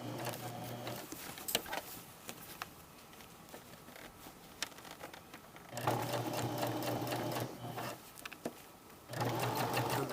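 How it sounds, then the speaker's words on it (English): A sewing machine stitches an invisible patch pocket from the inside, whirring in short runs that start and stop, with quiet handling of fabric in the pauses between bursts. "I need the machine to keep the needle down when I stop."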